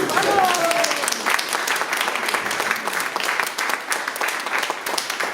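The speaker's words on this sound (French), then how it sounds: "Vous pouvez les applaudir." Applause from an outdoor municipal tree-planting gathering in Le Coudray-Montceaux, clapping for children, steady and moderately loud, with voices and a cheer mixed in near the start.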